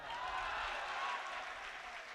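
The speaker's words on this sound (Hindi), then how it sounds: "सांप के जवाब पे यहां से वहां तक आपकी तालियां बजे" Faint, distant applause from an audience at an Urdu poetry recital of a nazm, a soft, continuous rush of many hands clapping without talk.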